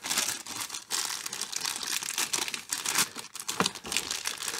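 A small plastic bag crinkles and rustles continuously and close up as it is pulled out of a Playmobil NHL advent calendar, with dense crackling bursts and no voices.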